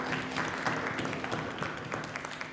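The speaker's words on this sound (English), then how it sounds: "Let's give them one last round of applause." A campus debate audience at RPI gives the candidates one last round of applause. The clapping is steady and fairly dense with crisp hand hits, moderately loud, and keeps going without a break.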